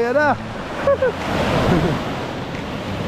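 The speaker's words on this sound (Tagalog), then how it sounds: "Ang laki ng alon, no?" Large sea waves churned up by Typhoon Jenny wash and roar steadily close by, with wind buffeting the microphone and brief voices speaking over the surf.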